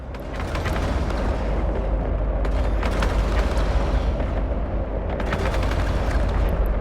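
Spaceship long-range weapons fire in Eve Online, a dense, sustained barrage of rapid booming shots and rumbling blasts, loud and continuous throughout with no talk.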